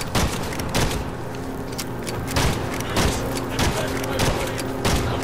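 Repeated gunfire bursts in the multiplayer video game Evil Dead: The Game, sharp shots recurring roughly every second or so over a dense, busy in-game background, with no talk over them.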